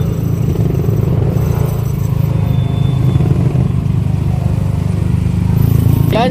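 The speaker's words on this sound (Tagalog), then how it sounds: "ingay ng mga motor" Motorcycle engines idle and rumble steadily at a Carmen Planas gathering, a continuous low drone that fills the whole stretch with crowd clatter and speech mixed in.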